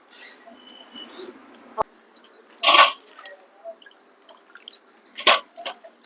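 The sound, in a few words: washing spiny gourds in water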